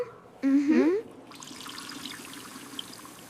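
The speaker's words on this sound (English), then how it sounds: "The water is coming out now." Water runs from a tap at a public restroom sink in a steady, moderate trickle, with a voice briefly speaking over the start of the flow.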